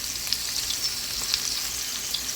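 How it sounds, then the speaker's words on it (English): Garlic sizzling in a hot pan for a sweet chili Argentine shrimp stir fry, an even bright hiss of frying with small crackles and pops, close and continuous with no voices. "This is when I toss in my garlic, because I always have a problem with it burning"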